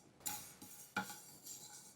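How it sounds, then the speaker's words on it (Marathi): White sesame seeds dry-roasting in a pan, heard as a few scattered light clinks and scrapes of a stirring utensil against the metal, close and fairly quiet. "सगळ्यात आधी अर्थातच तीळ आपण भाजून घ्यायचे."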